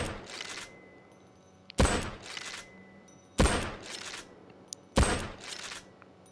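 Four spaced, sharp Mosin-Nagant sniper rifle shots in Payday 2, each a loud crack with a fading echo tail, with a second or so of quiet between them.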